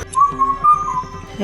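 A single high, thin whistled call of a bou-kotha-kou bird at night holds steady for about a second, clear and fairly close, with faint background tones beneath.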